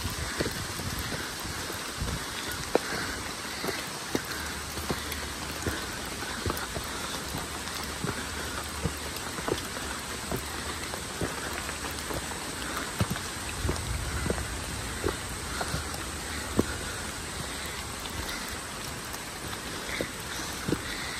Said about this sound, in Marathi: पुन्हा धुक्याने पसरलेले आहे आणि रिमझिम पाऊस चालूच आहे.